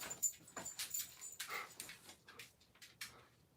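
A dog whimpers and whines in short, uneven bursts while waiting to be let outside, close by, with faint shuffling or door sounds between the whines.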